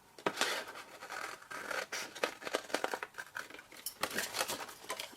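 Scissors snip through a plastic lid in a quick run of crisp, close cuts and scratchy scrapes, loud and sharp against quiet, with no speech.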